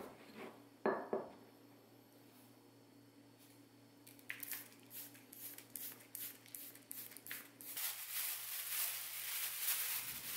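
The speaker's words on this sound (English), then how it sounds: "So I grind some with a mortar and pestle." Bonsai soil mix ground by hand with a mortar and pestle, quiet gritty scraping and crunching strokes that grow busier and louder toward the end, close up with no talking.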